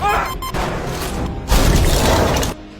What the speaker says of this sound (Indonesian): Di kabin kehilangan tekanan udara, menyebabkan tangki oksigen meledak.